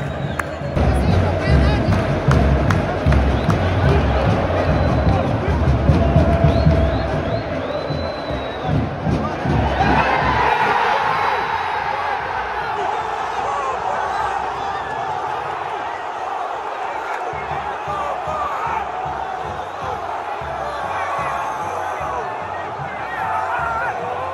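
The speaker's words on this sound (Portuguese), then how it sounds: "Torcida já se empolga." Football crowd at Maracanã stadium during a Flamengo vs Olimpia match, a roaring mass of fans cheering and chanting, louder at first and then settling into a broad sustained roar, with nearby voices talking.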